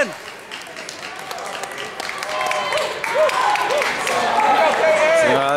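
Clapping rises from a crowd in a gym at a high school basketball game, mixed with shouting voices and sneaker squeaks on the court, growing louder toward the end.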